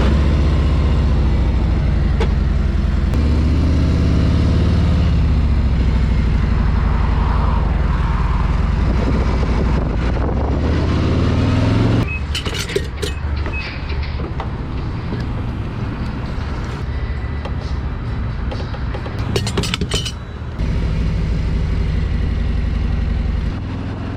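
A motorcycle rides along an open road, a loud continuous roar of engine and wind that shifts in pitch and texture partway through, with occasional sharp buffeting gusts.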